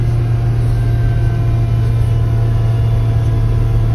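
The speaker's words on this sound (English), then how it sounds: "I don't know if you can hear the engine, but she's struggling a little bit." A payloader's engine labors uphill while pushing heavy wet snow during township snow plowing, a loud steady low drone with a strained, even tone and no voices.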